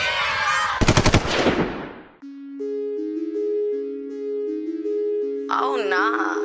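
A burst of rapid machine-gun fire as a sound effect in a rap music video, a short loud volley of several close shots, then a sustained synth tone and music, with a voice at the end.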